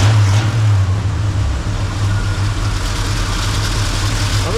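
A 1960 Chevy K10 engine idles steadily and loudly nearby, a deep, even rumble with no talk over it.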